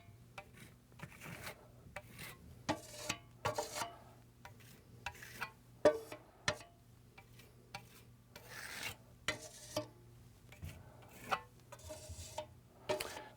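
Wet plaster is pushed through a stencil from the outside edges inward, giving soft, close rasping scrapes in short irregular strokes against a quiet background.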